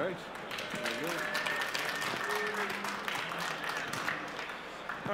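Small conference audience at an AWS re:Invent session clapping to welcome a speaker, steady applause for about five seconds with a voice speaking over it.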